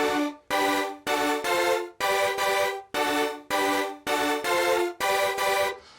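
A synth stab pattern built from one repeated stab note, played as evenly spaced chord hits with short gaps between them, bright and sustained, with nothing else in the mix.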